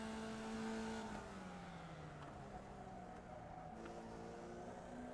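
A Formula Vee race car engine in the iRacing simulator at Navarra Speed Circuit drones loudly, its pitch sliding down through gear changes and rising again as the car accelerates, with no talk.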